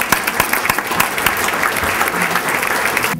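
Audience applause fills a hall at an Educator of the Year awards event, a dense, steady wash of many hands clapping close and loud for the full few seconds, with no voices heard over it.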